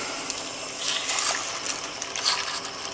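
Water is poured into a pot of lamb stew with bacon and turnips, a soft, steady splashing trickle that swells and eases, fairly faint with no voices over it.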